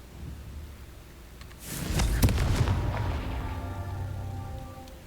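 A Confringo fire spell in Hogwarts Legacy blasts once with a loud, sudden whooshing burst and ringing impact, then a rumbling tail that slowly fades over quiet game ambience.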